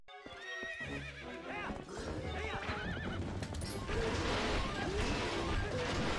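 Epona, the horse in The Legend of Zelda: Twilight Princess, neighs and whinnies amid galloping clip-clop hooves and dense in-game battle effects during the King Bulblin fight. The sound is loud and continuous throughout.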